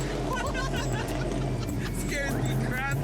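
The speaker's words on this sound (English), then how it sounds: "we got a bunch of loud race cars coming by" Loud race cars rolling through a suburban neighborhood in a birthday parade give a constant heavy engine drone, with a voice and crowd babble on top.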